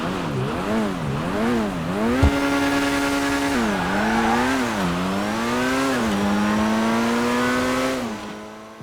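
A supercar, the Itali GTB Custom, drives in GTA 5 with a loud, close engine that revs up and drops repeatedly as it shifts through gears, followed by a long sustained high-speed drone.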